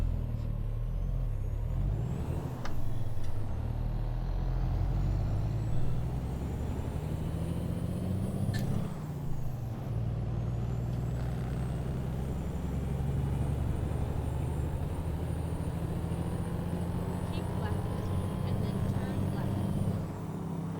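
Heavy truck engine in American Truck Simulator with a modded engine sound, a steady low rumble and drone running throughout, with a brief air-brake hiss around the middle and a voice talking over it.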